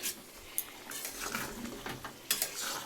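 A pot of meat curry simmers gently uncovered in a small home kitchen, giving soft bubbling and faint sizzling with a few light utensil taps, quiet and close, no talking.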